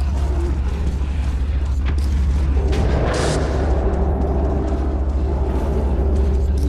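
A grenade blast in the video game Metro 2033 Redux: a steady low rumble thickens into a broad, loud burst around the middle and then settles into a sustained roar, with no voices.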